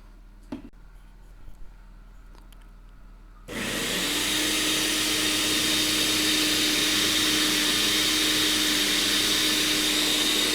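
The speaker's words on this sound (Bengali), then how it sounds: "আমরা 4 টেবিল স্পুন এটাকে আমরা ব্লেন্ড করব। ব্লেন্ড করা পর আমরা এটাকে পাউডার তৈরি করব।" Sugar is ground to powder in an electric blender: after a quiet few seconds with faint clicks, the motor starts abruptly and holds a loud, steady whirring roar close by until the end.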